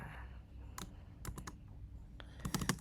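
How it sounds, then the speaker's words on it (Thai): Someone types on a computer keyboard while writing code, producing scattered quick key clicks with a few tight clusters, close but faint. "เราจะพิมพ์แท็กสแปน"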